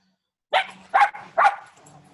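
A puppy barks three times in quick succession, close and fairly loud, each short yap followed by softer whimpering, during an online worship service.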